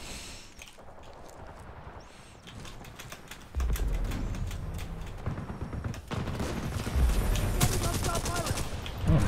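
Rapid bursts of automatic gunfire and booming explosions from a video game battle, dense and loud, growing heavier partway through with deep blasts under continuous rattling fire.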